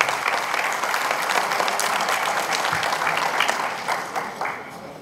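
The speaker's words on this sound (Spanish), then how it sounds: "al doctor Otón Pérez Fernández del Castillo, a quien pido un gran aplauso de todos los compañeros abogados de toda la República Mexicana" An audience of lawyers at a Mexican congress breaks into sustained applause for a speaker, a dense, even wash of clapping that fades slightly toward the end.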